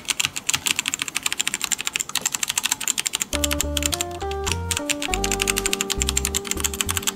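Rapid, steady typing on an Aula F2088 Mac Edition keyboard with quiet, non-clicky switches that don't bottom out hard, close and clear throughout, with sustained musical tones joining partway through.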